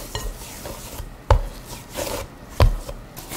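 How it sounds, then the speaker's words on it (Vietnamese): Purple yam dough is kneaded by hand, with soft rubbing and pressing broken by two sharp, close thumps about a second apart. "Sau đó mình dùng tay nhào bột cho dễ nha các bạn"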